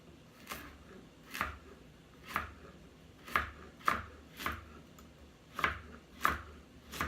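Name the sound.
chopping vegetables with a knife for vegan pot pie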